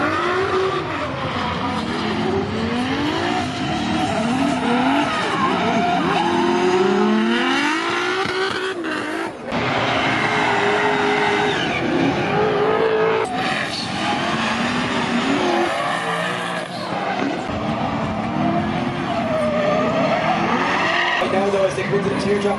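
Drift cars at a competition, tied to a BMW E92, slide with continuous tire squeal and a roaring, revving engine, loud and close, while a commentator talks over the noise throughout.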